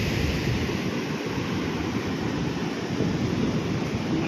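Strong ocean waves crash and wash steadily onto a beach in Sabang, Palawan, a continuous loud roar of surf with some wind noise and no talking.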